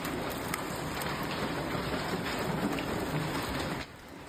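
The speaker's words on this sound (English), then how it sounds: "And you can hear the magnitude of that hail coming down last night." Ping-pong-ball-sized hail pounding down during a nighttime storm, a dense, steady roar of hard impacts heard close and loud throughout, easing slightly near the end.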